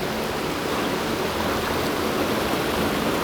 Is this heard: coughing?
no